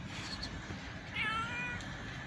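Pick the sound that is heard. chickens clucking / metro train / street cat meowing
street cat meowing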